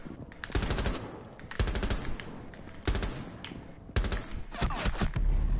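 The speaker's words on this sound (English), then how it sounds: "What are you shooting at, Lalo?" Video game gunfire in rapid automatic bursts, several loud rattling volleys close by with short gaps between them and no talk.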